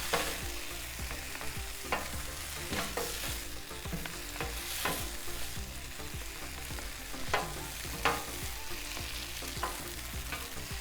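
Plant-based egg fried rice sizzling and frying on a flat griddle, with steady hiss and repeated scraping, clacking spatula strokes stirring it throughout, close and fairly loud with no talk.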